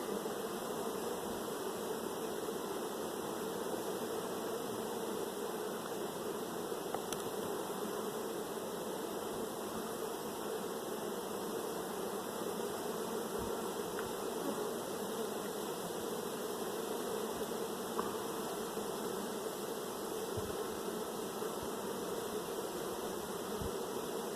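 Honeybees buzzing around opened hive frames during a summer split, a steady dense hum of many insects close by, continuous throughout with only faint occasional handling clicks.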